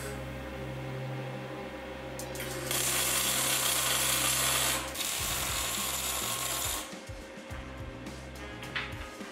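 Steel strips being welded together at 45-degree bends for a homemade plate compactor, a steady crackling buzz that swells loudly for a few seconds, then continues with irregular sputtering and clanks; no talk.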